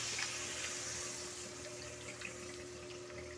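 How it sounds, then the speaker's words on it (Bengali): Water is poured into a pan of fish curry with thankuni leaves, a soft, steady pouring and splashing rush heard close and faint, with a low background hum and no talk. "এবার আমি জলটা অ্যাড করব।"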